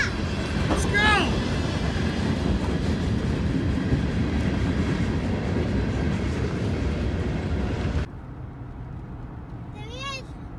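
A four-engine freight train rumbles past at a grade crossing, a steady broad roar for about eight seconds that then cuts off sharply, with brief bird-like chirps near the start and end and voices talking throughout.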